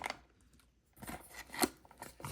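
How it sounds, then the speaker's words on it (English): A blind box toy package for Winnie the Pooh figures is torn and cut open close up, with crisp crinkling, snipping and ripping bursts around quieter pauses. "So let's go ahead and open this one up."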